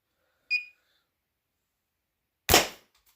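A short high ping followed two seconds later by a sharp, loud crack of an 11 mm steel ball fired from a slingshot with .80 bands striking its target.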